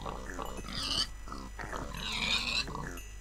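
Pigs squealing and grunting as they are killed in a video game, short repeated animal cries in quick succession with faint voice underneath.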